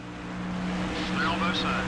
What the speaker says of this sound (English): we've got cars coming down pit road, which includes Kurt Busch.